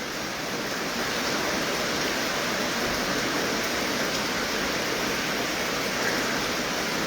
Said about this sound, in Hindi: जब बारिश की ऐसी खूबसूरत आवाज़ हो, बाहर ऐसी बारिश हो